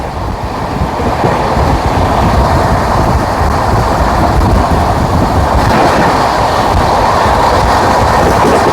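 Rajdhani express trains cross each other on Indian railway tracks, a loud, constant rumble of passing carriages with rhythmic wheel clatter and faint squeal, heard from close by.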